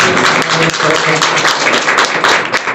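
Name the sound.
audience applause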